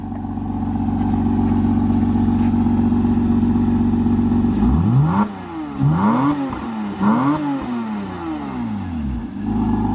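A car engine at a dealership idles steadily, then is revved several times in quick succession, each rev rising sharply and dropping back, loud and close with no talk.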